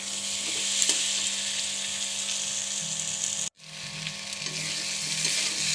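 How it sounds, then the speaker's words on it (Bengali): Fried potatoes sauté in a thick spice paste for a Bengali bhola fish kalia, a steady close sizzle with light stirring clicks, briefly cutting out near the middle before the frying resumes. "কিছুক্ষণ কষিয়ে নেব"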